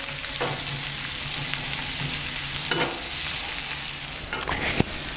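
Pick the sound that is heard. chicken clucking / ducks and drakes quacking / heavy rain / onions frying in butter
onions frying in butter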